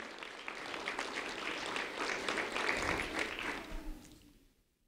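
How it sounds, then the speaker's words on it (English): An indoor audience applauds at a community recognition event for two ninth-grade students, dense steady clapping that builds, holds and then dies away over about five seconds. "A round of applause for Ariana Rodriguez and Crisali Lebron."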